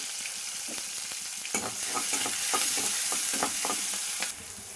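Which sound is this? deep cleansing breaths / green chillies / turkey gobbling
green chillies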